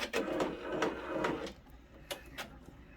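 An OESD embroidery machine stitches freestanding lace with rapid, rhythmic mechanical thumps and whirring at close range, then slows to a few sparse taps, with no talking.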